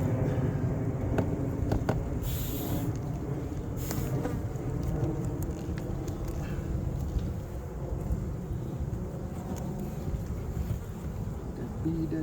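Bees buzz around an opened beehive, a dense and steady swarm hum close to the microphone with some wind, and a few sharp knocks or clicks from the hive work.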